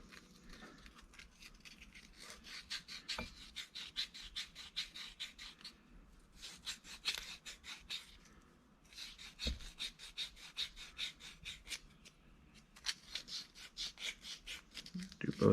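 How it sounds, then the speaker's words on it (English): Sandpaper at 240 grit rubs over a wood and silver coin ring in steady back-and-forth strokes, close and crisp, broken by a few short pauses and occasional knocks. "hit that with some 240 grit sandpaper"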